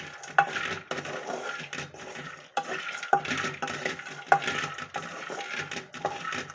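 Sesame and flax seeds dry-roasting in a pan, a spoon stirring them in repeated scraping sweeps, with a rattling rustle of seeds and light taps against the pan.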